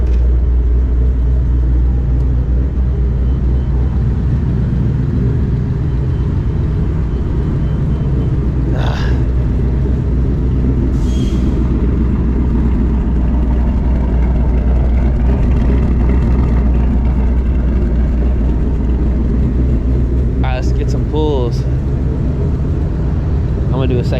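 Car with a cat delete running E85 and a ghost cam tune, its engine a loud, steady, heavy rumble that stays constant, with no clear rise in revs.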